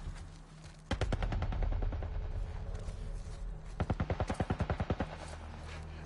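Military turret gunfire in The Last of Us Part 1, rapid bursts of heavy automatic shots in two long volleys with a pause between, loud and close with echoing tails.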